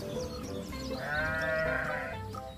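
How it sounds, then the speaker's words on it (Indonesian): A single male goat bleats in a wavering, nasal call lasting about a second, fairly close, over a quiet background. "Wow, ini ada kambing jantan."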